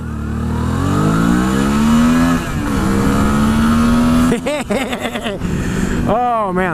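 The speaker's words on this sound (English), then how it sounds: "good engine. Good 600 engine. Strong and smooth." A Suzuki 600cc two-cylinder motorcycle engine on a test track, revving up with a rising drone, then rapid blips and shifts, with someone talking close over it.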